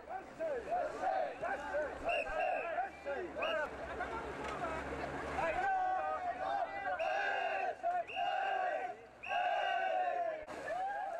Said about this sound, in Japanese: 歓声とともに上がる水しぶき。